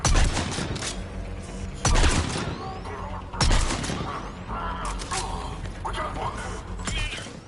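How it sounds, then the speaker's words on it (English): Heavy mortar fire in Mass Effect Legendary Edition, with three loud booming impacts spaced a second or two apart over a rumbling battlefield bed. Radio voices talk over the barrage. "Commander, we're getting a lot of mortar fire."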